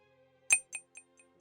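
A few quiet glassy chimes from Dwarf Fortress, signalling skills becoming rusty, ring in quick succession, each fainter than the last, over near silence.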